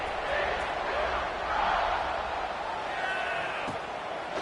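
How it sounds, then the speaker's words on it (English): A College Football 26 stadium crowd roars in a dense, steady buzz that swells briefly near the middle and fills the whole clip. "this crowd is buzzing after that last score"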